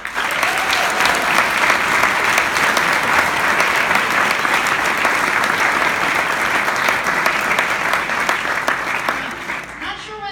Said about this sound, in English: Let's all give the parents and coaches a huge round of applause.